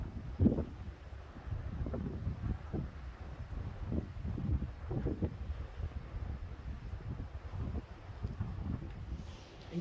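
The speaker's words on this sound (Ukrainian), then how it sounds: "Який вітер піднявся тут." Steady wind buffeting the microphone with low rumbling gusts, continuous throughout, no speech.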